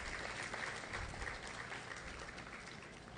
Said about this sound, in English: Can we get another round of applause for her?